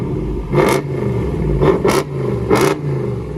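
Ram 2500 Power Wagon with a 6.4L HEMI V8 revved three times, sharp throttle blips rising over a deep idle rumble, close and loud with no talk.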